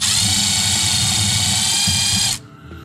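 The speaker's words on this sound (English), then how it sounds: "I'll pre-drill just slightly" A power drill whirs steadily at high speed for a couple of seconds, pre-drilling a shallow hole under a kitchen cabinet, then cuts off abruptly.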